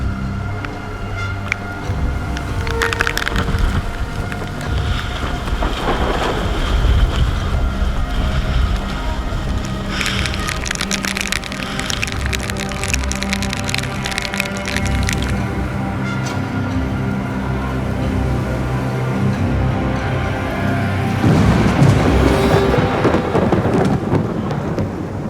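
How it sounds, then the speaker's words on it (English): Heavy wind roars continuously with sideways driving rain and low rumbling in a squall at sea, loud and sustained, with gusts surging near the end. "turned into really, really high winds and just sideways rain"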